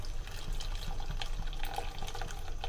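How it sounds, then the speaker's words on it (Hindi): Two cups of chilled water poured into a pot while making Kashmiri pink tea, a steady splashing, gurgling flow that runs continuously, close and fairly loud, with no talking. "पानी ऐड कर देंगे 2 कप।"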